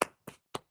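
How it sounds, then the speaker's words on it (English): Four sharp, single hand claps are spaced evenly at about a quarter-second apart, close and fairly quiet, with no other sound between them. "Let me clap my hands a couple of seconds."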